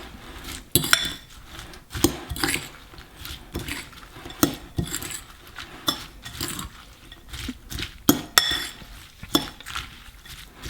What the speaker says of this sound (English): Dump that in there, and then just mix that all up together.